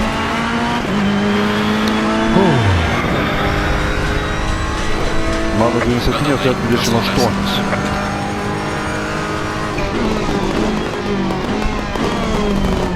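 GT race car engines at Laguna Seca Raceway in the racing game Assetto Corsa Competizione, loud sustained engine whine with sharp downshifts under braking, rising revs and surrounding cars passing, while someone talks over the action.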